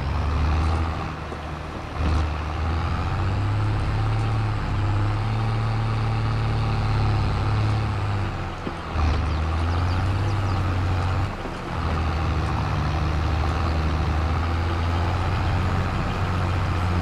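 A tractor engine in Farming Simulator 22 rumbles steadily at a deep idle-like drone, loud and continuous, its pitch shifting slightly a few times as it runs.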